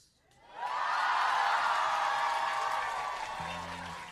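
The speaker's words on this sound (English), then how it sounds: "basic politeness gets a cheer" A live comedy audience bursts into cheering and applause, a sudden loud wave of clapping and whoops that swells quickly and holds for several seconds before starting to ease.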